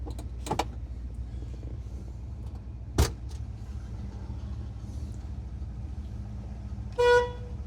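A 1972 Ford Bronco horn gives one short, bright honk near the end, after a couple of quiet clicks and thumps inside the parked truck, with no talking.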